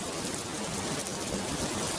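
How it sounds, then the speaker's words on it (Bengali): Steady, dense rain pours down in a continuous hiss, heavy and even, with no voices. "বাইরে তো ঝড় বৃষ্টি কমলো না"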